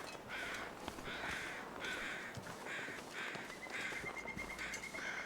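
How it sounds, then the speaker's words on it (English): Crows caw repeatedly in The Long Dark survival video game, a rhythmic series of rough calls over a steady wind-like ambient background, moderately distant and fairly quiet. "we're going to check those crows and see what they're flying around"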